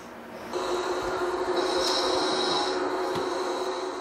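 Heavy snoring from a sleeping man, a steady rasping drone that swells in after a brief quiet start and continues close and fairly loud to the end.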